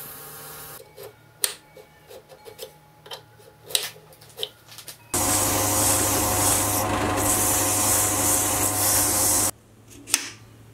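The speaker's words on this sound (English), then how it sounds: "I'll simply sand it down until I get a good fit on the collet" Metal shank of a homemade milling machine boring head being sanded down to fit a collet: quiet scattered clicks and scrapes give way to a few seconds of steady close rasping, then more faint handling noises.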